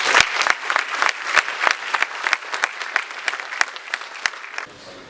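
Crowd at a corporate summit gives a round of applause, dense clapping from many hands with a few loud nearby claps punctuating it, fading out in the last moments.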